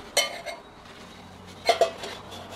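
A titanium spoon knocks against a lightweight titanium camping pot with a few bright metallic clinks, one early and a quick pair later, close by in a quiet room.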